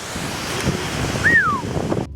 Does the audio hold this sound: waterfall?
yes